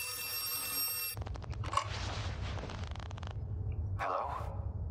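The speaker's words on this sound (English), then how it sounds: "Answer the phone!" Old telephone bell rings in harsh repeated bursts inside the horror game Outlast 2, loud and close over a low ambient rumble, pausing briefly and then ringing again.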